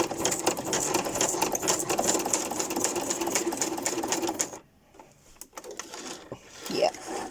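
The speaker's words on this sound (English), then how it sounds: "I always do a test stitch when I haven't used the machine for a couple of days" Sewing machine running a test stitch on scrap fabric, a close, busy mechanical whirring with fast needle chatter for about four and a half seconds, followed by quieter handling noises and brief fabric rustling.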